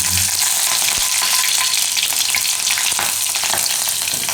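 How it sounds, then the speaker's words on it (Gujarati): Mustard seeds, cumin and green chillies sizzling in hot oil for a Gujarati soya chunk dish, a loud steady frying hiss with faint crackles throughout. "તેમાં થોડીક આપણે રાઈ નાખીશું અને જીરું. અને લીલા મરચાં."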